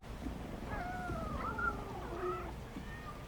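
Several cats meow and yowl in a faint, wavering chorus of drawn-out calls that overlap for about two seconds over low background noise, with no talking.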